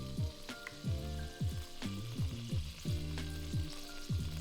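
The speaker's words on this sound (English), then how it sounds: "Turn the heat of the wok down to medium and add another tablespoon of oil." Oil heating in a wok over medium heat, a steady close sizzle under a repeated low, rhythmic scraping and clanking pattern, with no one speaking.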